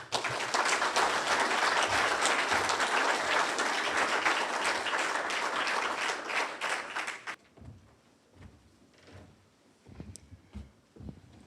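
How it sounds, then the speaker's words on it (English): A crowd applauds loudly and steadily for several seconds before the clapping abruptly dies away, leaving a few faint knocks and rustles. "Please give him a big round of applause."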